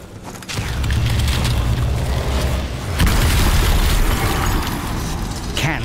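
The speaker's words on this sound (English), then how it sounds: "Can Siteki's magic stand up against some good old-fashioned cannon fire?" Heavy cannon fire in the video game Strange Brigade, a loud continuous barrage of deep booms and bursts that rumbles for several seconds with a brief dip before surging again.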